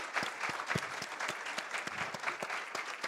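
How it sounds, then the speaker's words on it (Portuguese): An audience applauds two guests at a CCBB book club meeting on Lima Barreto: a steady burst of many hands clapping together, fairly close and even for a few seconds with no talking over it. "Vamos aplaudir as duas."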